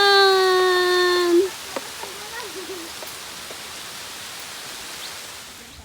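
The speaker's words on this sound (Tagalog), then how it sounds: "Ayan na yung ulan." Rain falls steadily on a hiking trail beside Tai Tam Reservoir in Hong Kong, a broad, even hiss throughout, opened by a bright sustained whistling tone that cuts off after about a second, with a brief faint voice.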